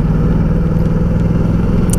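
A Ducati Multistrada 1200S motorcycle engine runs with a steady, smooth low rumble and a continuous strong drone, loud and close, with no pause or obvious revving.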